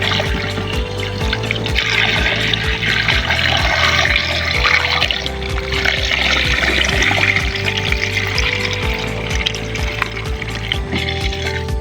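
Steady, loud pour of water filling a 20-liter container of fertilizer mixed with humic acid for chili plants, a continuous splashing gush running throughout.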